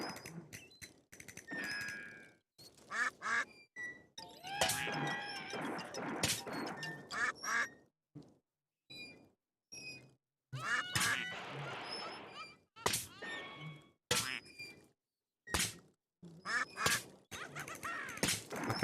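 Ducks quacking in a spooky forest, repeated bursts of loud, close quacks in irregular clusters separated by short silent gaps, with occasional other rustling noises between them.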